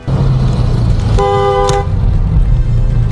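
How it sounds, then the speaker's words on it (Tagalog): A car horn gives one clear toot of about half a second midway, loud over the steady low hum of traffic and engine, with no talk. "maririnig nyo na si Boy Libag ang bumusina at hindi ang pulis"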